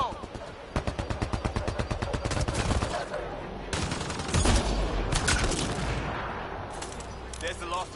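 Rapid bursts of gunfire in the Mass Effect Andromeda video game, a fast rhythmic volley early on giving way to heavier sustained shooting and booms, loud and close, with a voice talking over parts of it.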